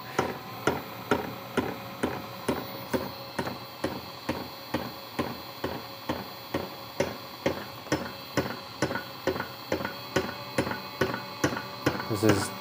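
Spinning magnet machine beside a copper sphere running at higher RPM, a fast, steady series of evenly spaced mechanical ticks and knocks repeating about twice a second at moderate loudness, with a mechanical hum underneath.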